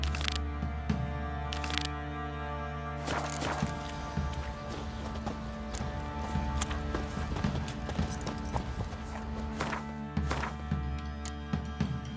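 Horse hooves clip-clop in a steady walking rhythm in The Witcher 3, close and clear, with occasional sharper tack clatters and a constant low background hum.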